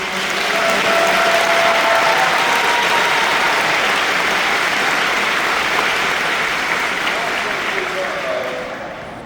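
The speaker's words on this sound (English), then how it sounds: "big round of applause and thanks to" A large audience at a Disney fan event panel breaks into loud, sustained applause that holds strong for several seconds, then begins to taper off near the end.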